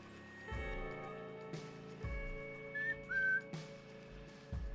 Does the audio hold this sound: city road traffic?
no